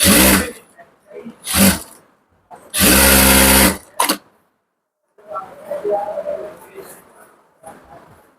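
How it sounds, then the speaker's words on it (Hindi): A sewing machine runs in several short, loud stitching bursts as a belt is sewn onto a ladies' pant, followed by a stretch of quieter talking. "उसके बाद इसको यहाँ पे सिलाई लगा लेंगे।"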